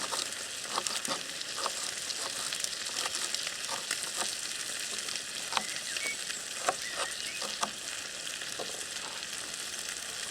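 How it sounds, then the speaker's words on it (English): Chopped baby leeks from the garden sizzle steadily in hot oil in a RidgeMonkey Connect Combi pan, a constant crackling hiss dotted with small pops, fairly close with no talking. "we're just going to fry up these leeks"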